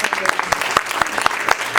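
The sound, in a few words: congregation clapping hands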